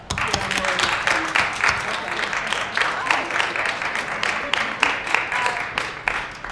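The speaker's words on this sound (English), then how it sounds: "Come on, clap for the dreamers, you guys." Audience at a small graduation ceremony clapping for the graduates, a dense, steady patter of hands at moderate volume with some sharp individual claps standing out.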